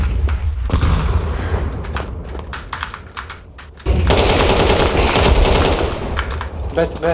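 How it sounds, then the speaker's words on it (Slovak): Counter-Strike gameplay with bursts of rapid automatic gunfire followed by a loud grenade blast and further heavy shooting, dense and close, with faint player voices underneath. "I'm throwing a grenade."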